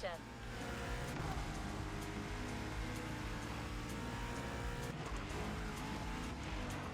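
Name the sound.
modified car engine roaring, from video game The Crew Motorfest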